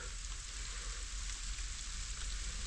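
Steady, dense hiss of rain falling outside around a farm during an early-morning corn harvest and combine repair, continuous and even throughout with no voices.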